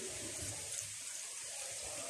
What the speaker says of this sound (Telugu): ఇప్పుడు ఇందులో మనం వాటర్ని యాడ్ చేసుకుందామండి.